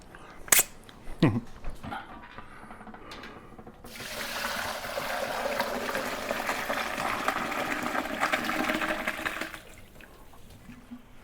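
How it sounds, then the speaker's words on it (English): Lamb demi-glace stock pours through a strainer, a steady broadband rush of draining liquid running for several seconds after a few sharp clinks, then tapering to quiet. "Let that drain out."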